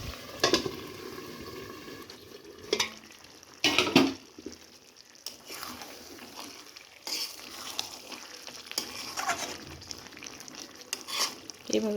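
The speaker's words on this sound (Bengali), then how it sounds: "এইভাবে কষিয়ে নেব" Chicken and potato curry stirred and fried in a pan, with soft intermittent sizzling and scraping of the spoon against the pan, a few louder stirring bursts, fairly quiet and close.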